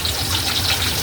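Steady water gushing from a tap as lato seaweed is washed, a continuous close, fairly loud rush with no talk.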